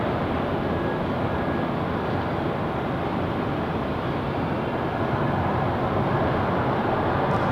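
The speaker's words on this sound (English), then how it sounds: "there's the 737-800 arriving from Phoenix, and then here's our 737-900 arriving from Seattle on Alaska Airlines" Boeing 737-800 and 737-900 airliners arriving at Nashville International Airport make a steady, unbroken jet roar that holds at an even loudness from start to finish.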